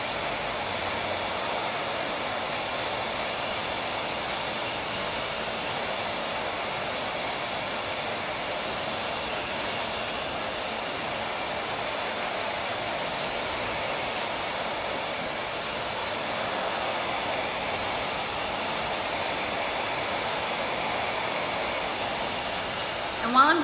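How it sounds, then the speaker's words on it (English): A hair dryer blowing on a short haircut gives a steady, even whoosh of air that runs unbroken for over twenty seconds at moderate level, with a small bump right at the end. "And while I'm blow drying, I'm always thinking about my final steps."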